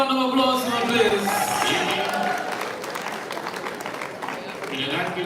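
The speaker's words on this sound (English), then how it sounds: "they give them a round of applause for please" An audience applauds performers at a national extempo and freestyle monarch finals, with a steady wash of clapping from a crowd and a voice talking over it through most of the stretch.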